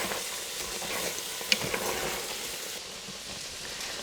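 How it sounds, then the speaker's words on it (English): Orange chicken sauce is stirred in an Instant Pot, giving a continuous soft bubbling sizzle with faint scraping and one brief clink, steady and close. "we're just going to mix that up for about 6 minutes"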